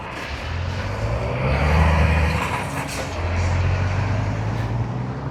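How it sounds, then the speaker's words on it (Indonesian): A big truck rumbles past nearby on a road near Kokstad and Flesland, Norway, a steady heavy engine drone with road noise swelling and easing, plus a brief hiss. "Ini truk gede cuy dia."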